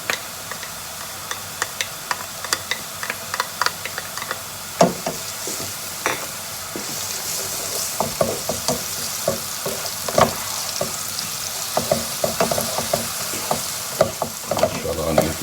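Garlic paste frying with onions in a pan for a sour aubergine and potato curry, a steady close sizzle broken by frequent clicks and scrapes of stirring, with no voices.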